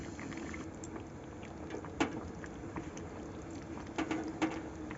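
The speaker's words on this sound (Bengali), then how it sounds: "এবার আমি আর 1 মিনিট মতন কষিয়ে গরম জলটা এতে ঢেলে দেব।" Hot water poured into a pan of chicken curry, a soft continuous liquid rush and faint bubbling with a few brief clinks, steady and fairly quiet at close range.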